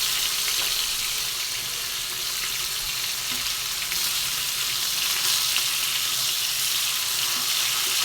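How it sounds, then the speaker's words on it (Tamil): Fish frying in a pan of hot oil for a home fish fry, a steady, dense sizzle that holds close and even throughout with no pauses. "இப்போ மீன் வந்து நம்ம இந்த அளவுக்கு பொரிச்சுக்கிட்டோம்ப்பா."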